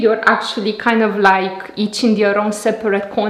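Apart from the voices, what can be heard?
No everyday noise stands out behind the speech.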